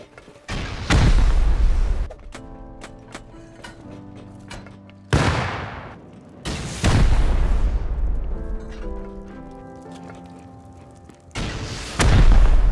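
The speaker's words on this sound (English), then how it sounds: "I didn't even care how much rockets I was using" Rocket explosions in the survival game Rust, four or five loud booming blasts spaced a couple of seconds apart, each with a long rumbling decay and some clicking and gunfire sounds in between.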